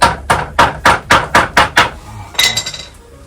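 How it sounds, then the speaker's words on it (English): A hammer drives a staple into a DIY Japanese screen with eight sharp, evenly spaced strikes, close and loud, followed by a brief metallic clatter that fades out. "need a hammer"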